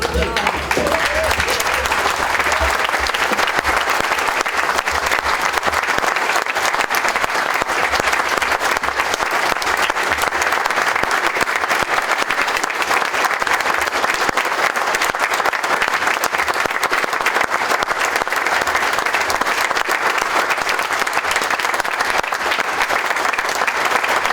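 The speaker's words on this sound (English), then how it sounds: "I would love to give Bart a standing ovation for being a great guy" Sustained applause from a large crowd giving a standing ovation at a memorial service, steady and loud throughout, with a brief voice near the start.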